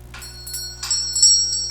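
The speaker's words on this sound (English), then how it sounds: "Bell above the door twinkled as I walked in." A small bell hanging above a shop door in a financial-district alley gives a few light, bright, sustained chimes that ring on and decay over a quiet background.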